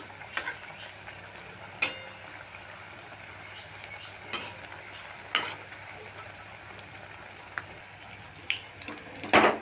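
Sliced onions frying in foaming oil with lemon, a soft continuous sizzle under a few sharp clicks and taps of a spoon stirring the pan, no voice.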